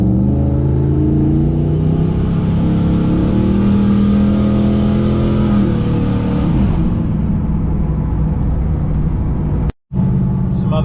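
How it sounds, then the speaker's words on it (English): A turbocharged GMC truck cruises down the road, its engine giving a steady, loud low rumble with harmonic drone throughout, easing slightly partway through before a brief dropout near the end. "we're just cruising down the road"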